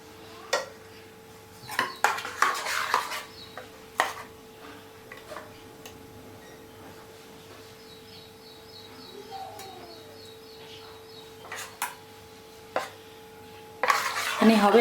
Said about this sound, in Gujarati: આવી રીતે આખી નોનસ્ટિકમાં આ તેલને આપણે ફેલાવી દેવાનું છે